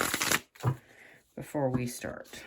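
Tarot cards are shuffled in short brushing bursts while a person talks over them.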